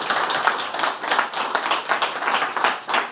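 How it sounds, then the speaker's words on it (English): A conference audience claps after a talk on open hardware infrastructure: a short, moderately sized burst of hand clapping, fairly close and even, with uneven pulses through its few seconds. "So round of applause for Tara."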